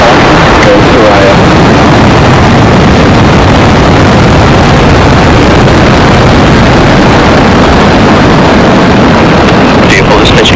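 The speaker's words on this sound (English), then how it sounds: "Ignition and liftoff." A SpaceX Falcon 9 lifts off from SLC-40 at Cape Canaveral carrying the Thuraya 4 satellite. Its engines make a loud, continuous, broadband roar with a wind-buffeted rumble that fills the whole stretch without a break.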